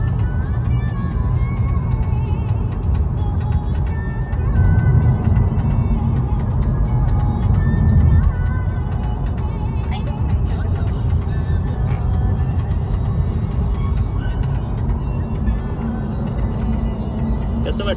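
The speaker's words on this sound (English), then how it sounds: "going to sit in a car that I am driving" Car being driven on a road, its steady engine and road rumble running continuously and fairly loud, with people talking over it throughout.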